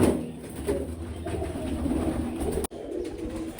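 Low, throaty cooing from pigeons fills a coop in steady overlapping calls, briefly cut by a sharp dropout near the end before the cooing resumes.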